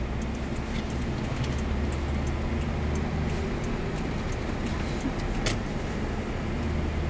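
Car driving in road traffic in Bang Yai, Nonthaburi, a steady close engine and road rumble with passing traffic noise throughout, no clear talking.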